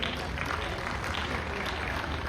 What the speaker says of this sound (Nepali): हामी उहाँको लागि ताली बजाउँ।